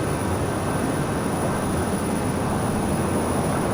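Steady, broadband engine roar of a Learjet 35A in Microsoft Flight Simulator 2020, heard from inside the cabin, constant and unchanging with a faint high whine on top, no voices.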